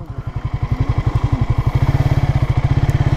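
A nearby motorcycle engine thumps in a loud, rhythmic idle as the bike is brought to a stop for parking, the beats quickening slightly toward the end.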